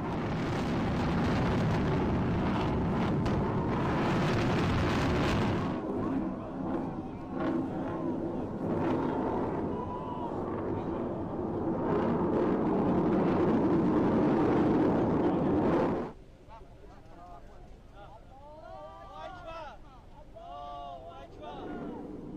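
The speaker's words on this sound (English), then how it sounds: "Iran has launched the second phase of its missile maneuvers" Ballistic missile launch during an Iranian military exercise, a loud sustained roaring blast with heavy wind buffeting that cuts off abruptly, leaving quieter background with a voice speaking afterward.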